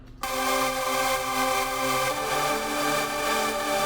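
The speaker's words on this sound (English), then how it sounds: "So this is what the chords sound like." Sustained synth chords for a K-pop beat ring out steadily after a short silent start, layered tones holding and shifting together with no voices over them.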